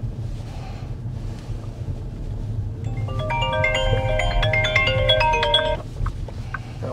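An electronic phone ringtone plays a bright, repeating melodic pattern for a few seconds over a low rumbling background inside an XPENG G6 on a test drive, with no talking.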